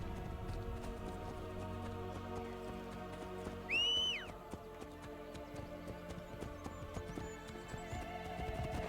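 Horse in the Assassin's Creed Brotherhood video game, rhythmic hoof clip-clops under a game music bed, with a brief loud whinny midway and soft whistle-like tones afterward.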